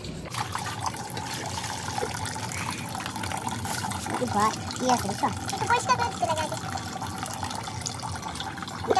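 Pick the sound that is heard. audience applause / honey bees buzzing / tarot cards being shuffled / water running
water running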